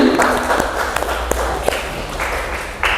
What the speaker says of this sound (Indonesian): Oke, beri tepuk tangan untuk Ali.